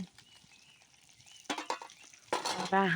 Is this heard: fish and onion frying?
yes